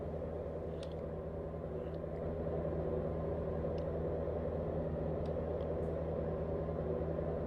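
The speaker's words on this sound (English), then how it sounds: "I don't know why you can still hear my truck going" A truck engine idles steadily, a low constant rumble running throughout with a few faint ticks and clicks on top, fairly quiet and with no speech.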